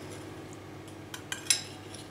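A metal spoon scooping baking soda into jam in a bowl, a few faint soft clinks and scrapes close by, the clearest one near the end, in a quiet kitchen.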